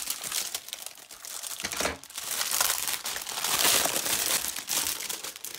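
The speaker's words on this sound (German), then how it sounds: "Die ist natürlich mal wieder eingepackt. Müssen wir natürlich auch wieder auspacken." Plastic wrapping crinkles and tears as it comes off a LEGO Batman card binder, continuous loud close crackling with brief pauses.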